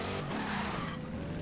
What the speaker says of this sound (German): Ich höre einen Kompressor.